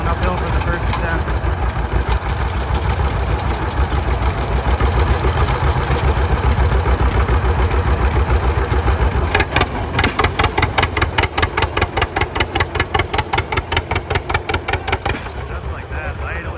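A deadweight pulling tractor's engine settles down to idle after a dirt-track pull, a steady loud low rumble that turns into rapid regular pulsing toward the end, with a voice talking over it.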